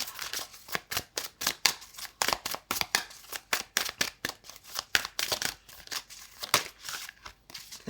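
Tarot cards being shuffled by hand, a close run of quick papery riffles and slaps in uneven bursts, fairly loud and continuous with no voices.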